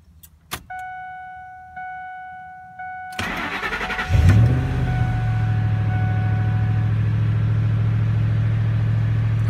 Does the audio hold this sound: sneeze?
no